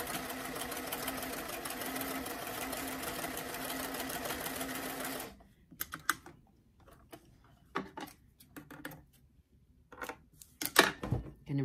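A home sewing machine runs steadily for about five seconds, stitching the top edge of a doll's sleeve, then stops; scattered soft handling clicks and rustles follow close by.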